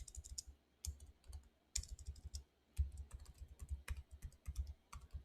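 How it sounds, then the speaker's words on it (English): A password is typed on a computer keyboard: quick, irregular bursts of close, crisp key clicks with short pauses between runs, faint and without any voices. "And now I just need to type my password."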